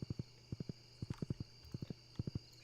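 Horse hooves clip-clop in the video game Stardew Valley, quiet paired hollow clops in a steady repeating gait across a few seconds, alone over a faint background hum.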